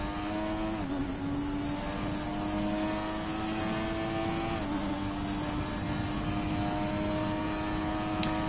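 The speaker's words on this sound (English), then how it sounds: "I know the Benetton sounded like a 90s Formula 1 car" A Formula 1 car engine in the F1 2020 video game drones at a steady high-pitched whine with brief dips as gears shift, constant and synthetic, with no voices.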